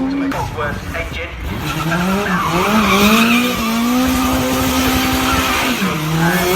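Road-legal single-seater with a Liverpool-built Cosworth engine running past at a car festival, a loud sustained engine note rising and sliding in pitch with tyre noise, close and continuous throughout.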